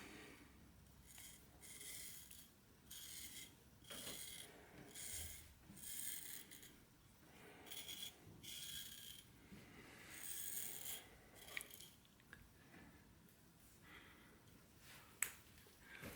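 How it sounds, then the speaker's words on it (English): A Damascus-steel folding knife shaves leg hair. Rhythmic, faint scraping strokes repeat close up, about a dozen rasping passes in steady succession with brief pauses between them and no talk. "we're just gonna try to shave some leg hair and see if the knife is shaving sharp"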